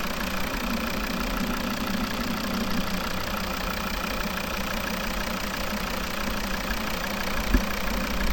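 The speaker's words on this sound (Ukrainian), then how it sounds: "Це робота двигуна." A 2011 Volvo V50 with a 2.0 D3 five-cylinder diesel idles in a constant, moderately loud drone with a faint rattle, broken by one short thump near the end, with no voices.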